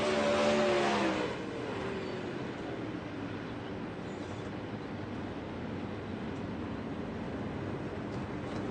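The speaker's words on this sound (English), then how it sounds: "Joseph Brandy, your victory winner here at Volusia here tonight in the 360 wing sprint cars." 360 winged sprint cars racing at Volusia, with a loud burst of engine roar at the start that settles into a steady, dense wash of racing noise.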